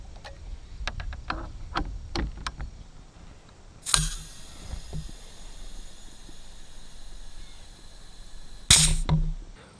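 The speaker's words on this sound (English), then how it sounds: "Just wanna show you how quick this transfer tank will fill this bottle up." Compressed air rushes from a transfer tank into an air rifle bottle for the Pistelle X-68, starting as a sudden loud hiss that holds steady for about five seconds, then a second sharp burst of hissing near the end, after faint ticking clicks.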